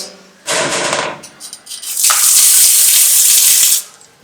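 Two bursts of hard hissing water spray from a bidet sprayer, the second longer and more forceful, close by with a loud, steady rush.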